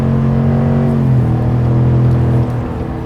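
A 2021 GMC Sierra Denali pickup accelerates hard, its engine droning loud and close while the 10-speed automatic shifts up, the pitch dropping midway before the engine note settles.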